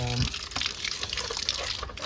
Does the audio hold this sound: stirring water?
yes